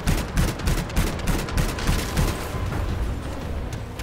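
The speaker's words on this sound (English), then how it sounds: "Who's shooting at me?" Rapid bursts of automatic gunfire ring out in the sci-fi shooter game Anthem, a dense, close, repeated rattle of shots that runs throughout.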